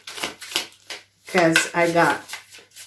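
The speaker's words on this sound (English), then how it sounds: "I'm really going to shuffle." Tarot cards riffled and shuffled by hand, the Major and Minor Arcana decks being mixed, giving short papery bursts of flutter between a speaking voice, one longer ripple in the middle.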